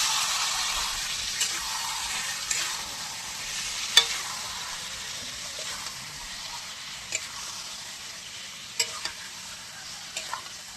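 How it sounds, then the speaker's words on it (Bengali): Bombay duck fish sizzles in a small wok on a camping stove in the Sundarbans, a constant hiss of hot oil broken by scattered clicks and scrapes of stirring, with no talking. "তো এখন লোটে মাছটা এই যে কড়াইতে দেওয়া হবে, রান্না হচ্ছে।"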